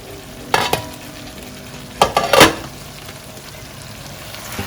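A thick crab roast cooks in a pan with a low, steady sizzle, broken by a few loud stirring scrapes and clatters, one pair near the start and a cluster in the middle.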